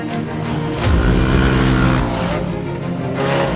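A Mazda Miata's engine revs hard and loud in the moments before a jump, a steady close-up roar that swells and holds with slight pitch rises, with no talk over it.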